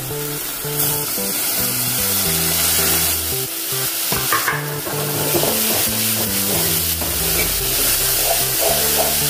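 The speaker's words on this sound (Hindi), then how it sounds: "अभी हम टमाटर डालेंगे चॉप किए हुए" Chopped tomatoes hit hot oil with fried ginger and garlic for chole masala, a loud continuous sizzle up close with scraping stirs and clinks of a spoon throughout.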